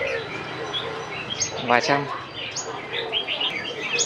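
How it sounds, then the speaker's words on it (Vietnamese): Sunbirds and other caged birds at a bird market at an antiques market in Ha Dong, with bright chirps and tweets scattered across the clip, close and lively, and a voice briefly speaking among them. "em là chuyên về dòng chim hút mật này"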